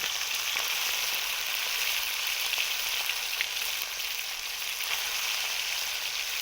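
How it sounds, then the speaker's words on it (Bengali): Cumin seeds frying in oil in a pan before spiced goose meat goes in, a dense, even, close sizzle that hisses steadily throughout without talk. "জিরেটা একটু ভেজে নিচ্ছি।"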